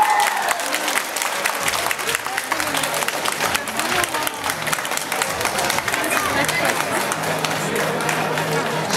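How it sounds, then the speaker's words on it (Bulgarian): An audience at a high-heels sprint event in Varna bursts into steady, dense applause and cheering for a superstar guest, continuous and loud throughout, with a voice briefly audible. "вашите силни аплодисменти за суперзвездата Андреа Банига"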